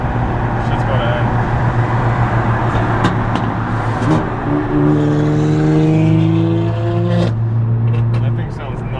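A rebuilt, formerly fire-damaged BMW M3 engine revs hard during a race against a GTR, loud and close with a steady drone that climbs through rising pitch sweeps, while people talk over it.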